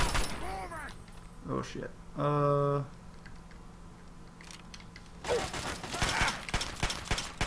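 Gunfire in Fallout 3: a loud mechanical burst, then a cluster of sharp, rapid shots near the end, with a voice exclaiming between them.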